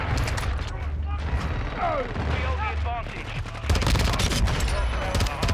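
Rapid bursts of VEL-46 fire in Modern Warfare, fast repeated shots crackling close and loud, with game effects and a voice talking over the gunfire.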